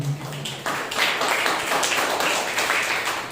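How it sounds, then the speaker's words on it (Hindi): A church congregation at a Sunday morning service applauds for a birthday, a steady wash of many hands clapping together that keeps up for a few seconds. "अनंत के लिए जोरदार तालियां उनके बर्थडे के लिए।"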